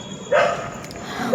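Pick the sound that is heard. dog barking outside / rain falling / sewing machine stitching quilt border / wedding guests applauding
dog barking outside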